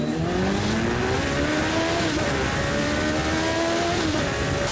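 A high-revving Hayabusa motorcycle-engined car, revving to 12,000 RPM, screams steadily, its pitch climbing and dipping through repeated revs, loud and close.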